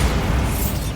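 Bombarda explosion spell in Hogwarts Legacy, a single loud, thick rumbling blast that fills the moment with low booming roar, no voices.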